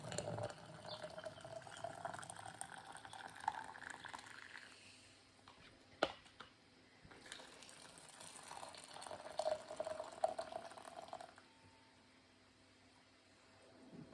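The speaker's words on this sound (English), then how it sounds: "we're going to fill the jars up with boiling water" Boiling water pours and gurgles into glass jars in two long fills separated by a short pause, with a faint clink of glass between them.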